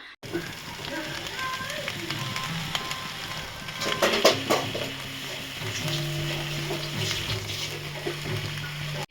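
Prawns fry and sizzle in a clay pot while a spoon stirs and presses them, a steady close crackling hiss with scraping and tapping of the spoon, continuous throughout without speech.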